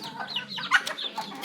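Chickens on a farm cluck and chatter in quick, uneven bursts of short calls, close by and moderately loud, with several birds calling over one another and no one speaking.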